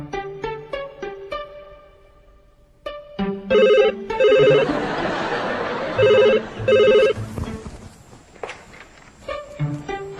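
A mobile phone rings in repeated loud bursts of an electronic ringtone, following a stretch of quiet and some movement, in an indoor domestic setting.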